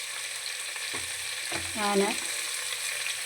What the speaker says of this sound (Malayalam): സവാള ഇട്ടു. സവാള നമുക്ക് ഇളക്കാം.